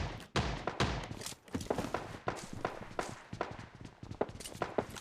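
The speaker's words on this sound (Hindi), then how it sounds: "गन शॉट की आवाज़ तो आपको सॉलिड वाली आ रही होगी" Gunfire in the mobile battle royale game PUBG Lite, sharp repeated cracks and irregular bursts spread across the moment, fairly quiet overall with footstep-like thuds between shots.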